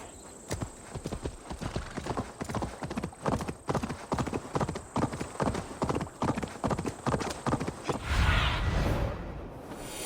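Horse hooves plod at a steady walking clip-clop through a game world in Assassin's Creed Valhalla, the rhythmic footfalls continuing for several seconds before a brief rushing swish near the end.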